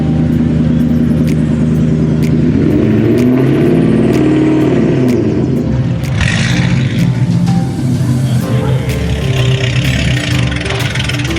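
A manual Ford Mustang's engine revs loudly and holds at raised rpm, then labors and changes pitch as the car pulls away, close and continuous with no speech.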